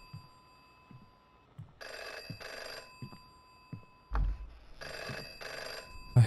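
A telephone bell rings in the horror video game FM, two double-burst rings spaced a few seconds apart over quiet ambience, with soft rhythmic heartbeat-like thumps and a low thud between them.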